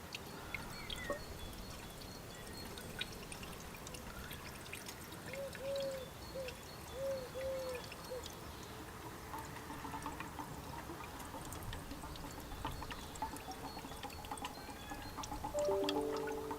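Engine oil pouring into the oil filler of an Audi TT, a faint, continuous liquid trickle and glug in a quiet setting with light handling noises.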